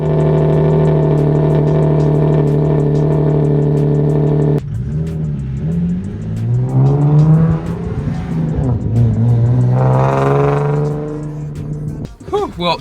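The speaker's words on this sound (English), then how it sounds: "That's a dyno day cold start." A modified Nissan 370Z starts cold on dyno day, settling into a loud steady idle before being revved hard in several rising and falling sweeps, close and dominant, with a brief burst of voices near the end.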